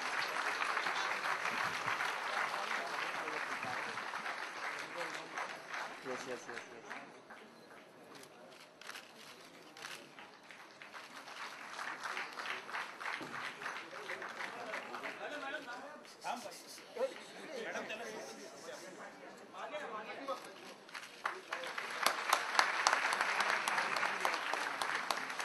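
An audience applauds at a felicitation ceremony honouring film actresses, a sustained wave of many hands clapping that dips in the middle and swells again toward the end, with a voice speaking over it at times.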